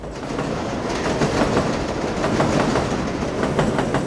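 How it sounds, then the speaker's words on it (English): A 7 train runs on elevated track over Queens, a loud, continuous rumbling roar with steady wheel clatter, close and filling the whole stretch with no voices. "The 7 train winds over and through Queens like a main cable."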